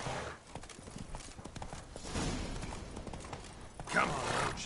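Roach the horse's hooves clip-clop briefly and fairly faintly, with uneven hoofbeats under a murky, noisy background and a short burst of louder sound near the end.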